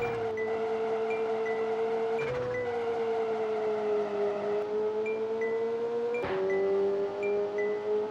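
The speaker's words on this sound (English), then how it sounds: "You can also hear the backfires and the blow-off valve on the robot." A car in the racing game Touge Max 2 holds a steady, droning engine note throughout, cut by two sharp backfire-like pops, one early and one late, with a hiss that fits a blow-off valve.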